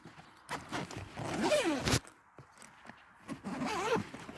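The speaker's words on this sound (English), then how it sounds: "The first impression is that the zippers are really good compared to the old one." The zipper on a Mindshift Backlight 36L camera backpack is pulled open in two quick, close, rasping strokes separated by a short pause.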